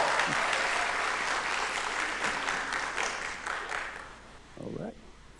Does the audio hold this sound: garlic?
no